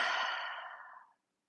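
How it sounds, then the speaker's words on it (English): A single long breath is let out through an open mouth at the end of a slow yoga flow. It is soft and airy, close to the mic, and fades over about a second into silence. "A final inhale through the nose. Open the mouth, exhale."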